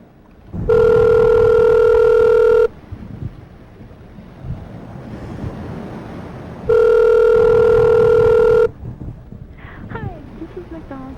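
A telephone ringback tone sounds twice on a call to a McDonald's in Olympia, two long loud rings separated by a pause, over windy background noise.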